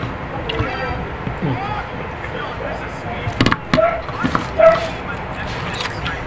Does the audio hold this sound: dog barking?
yes